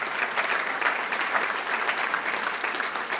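Audience applause at a business meetings general session, dense steady clapping from a large crowd filling the whole stretch without a break.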